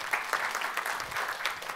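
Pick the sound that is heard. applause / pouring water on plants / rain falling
applause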